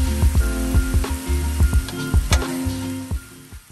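Shrimp fried rice sizzles loudly on a Blackstone griddle as soy sauce and oyster sauce go in, with sharp spatula scrapes and clacks over a constant close frying hiss.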